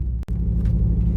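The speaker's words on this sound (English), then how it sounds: "Okay, car is in drive. We're gonna go up" Drag racing car idling in drive at the starting line, a steady low engine rumble close by with a brief dip partway through, no talk.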